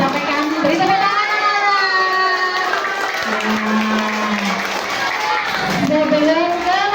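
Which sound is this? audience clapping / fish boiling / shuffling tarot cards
audience clapping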